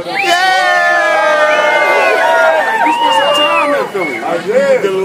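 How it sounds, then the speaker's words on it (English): A studio audience cheers and whoops loudly for a guest, voices shouting over one another in a sustained, excited burst that holds steady for several seconds before thinning slightly near the end. "give her a cheer, everybody"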